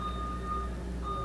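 A garbage truck's reversing alarm sounds as a steady electronic tone with a brief break, heard from a distance over a low rumble.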